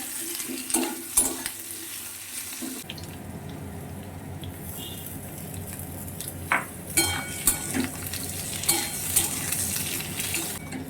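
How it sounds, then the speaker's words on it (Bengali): Potatoes frying in mustard oil tempered with black cumin seeds give a steady sizzle, with brief stirring and utensil clatter rising near the end, close and without talk. "সর্ষের তেলের মধ্যে একটু কালো জিরে ফোড়ন দিয়ে দিলাম, একটু আলুটা লাল করে ভেজে নিলাম।"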